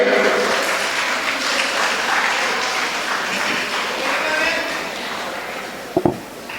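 A hall audience at a Tamil association award ceremony claps in a dense, steady wash of applause for the whole stretch, with a voice briefly heard over it and a couple of sharper knocks near the end.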